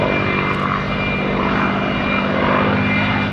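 Steady, loud engine drone from World War II footage of Firefly strike aircraft attacking Japanese A6M Zeros in August 1945, a continuous propeller-plane roar filling the whole stretch with no talk.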